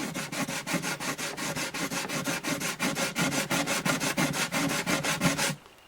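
Sandpaper is rubbed back and forth across a wooden acoustic guitar bridge in quick, rhythmic strokes, close and loud, continuing steadily for several seconds before stopping.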